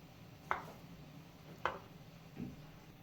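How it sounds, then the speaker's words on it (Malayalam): A knife cuts through chicken sausage on a board in three quiet, separate chops spaced about a second apart, with no talking. "ഇത് ഫുള്ള് നമുക്കിതുപോലെ കട്ട് ചെയ്ത് കൊണ്ടുവരാം കേട്ടോ."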